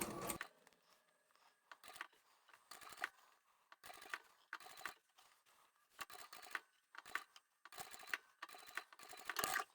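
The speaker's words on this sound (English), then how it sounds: "Place the fabric underneath and stitch." Sewing machine stitching the hem of a fabric tube for a large boho-style knitting bag: short bursts of stitching, about nine separate runs with brief pauses between, close and fairly quiet.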